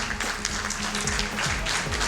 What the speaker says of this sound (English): let's extend our good chairman a very big round of applause